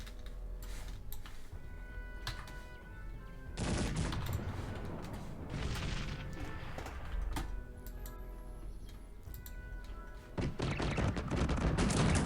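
Repeated bursts of heavy rapid multi-barrel cannon fire in Cossacks 3, with clattering volleys that break out, pause and then start again.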